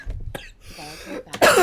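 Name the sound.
woman coughing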